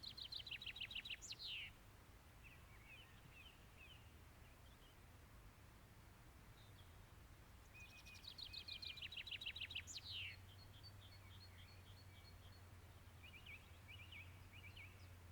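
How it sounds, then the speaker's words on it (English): A chaffinch sings twice at dawn on Dartmoor, each a quick accelerating rattle of notes ending in a flourish, with fainter chirps between over a low background hum. "a chaffinch, an accelerating rattle finishing with a flourish"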